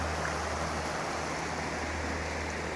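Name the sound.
flowing creek water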